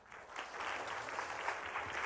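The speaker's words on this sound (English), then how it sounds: "if you guys can refrain from clapping during their answers" Audience at a kids forum in Culver City applauding, a steady close patter of many hands clapping that holds for about two seconds.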